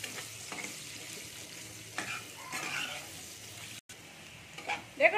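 Long-cut potato pieces fry in a pan of oil with a soft, steady sizzle. A few light clinks and stirring sounds come near the end, and the whole sound stays faint.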